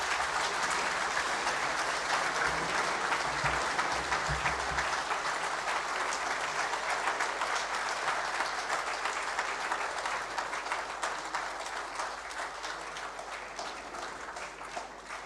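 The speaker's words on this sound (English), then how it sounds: "let's continue a round of applause for the Governor of the Central Bank of Nigeria, Mr. Godwin Emefiele, CON" Sustained audience applause for the Governor of the Central Bank of Nigeria, Godwin Emefiele, at a bank trade seminar, a dense, steady roar of clapping lasting about fifteen seconds and easing gradually toward the end.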